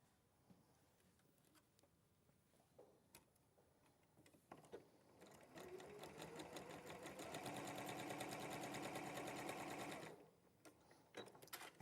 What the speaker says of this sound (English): What you're going to do is sew from one corner across down to the other corner,